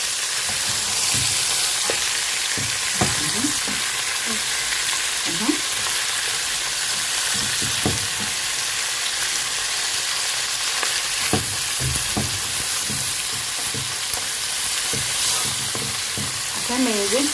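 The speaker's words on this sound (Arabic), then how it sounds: "ابتدي انا الحمام هشوحه الاول اهي. الكبد والقوانص اهي حطاها كمان" Pigeons, livers and gizzards sauté in a hot pan with a continuous sizzle, broken by scraping and clinking stirring strokes at irregular intervals.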